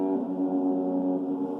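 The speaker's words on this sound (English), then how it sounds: "The foghorn blares, taking them both by surprise." A ship's foghorn blares aboard a vessel at sea, one loud, steady, sustained horn tone that holds without a break from start to finish.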